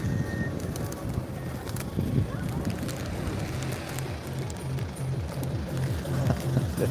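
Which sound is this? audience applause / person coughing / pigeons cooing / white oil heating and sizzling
pigeons cooing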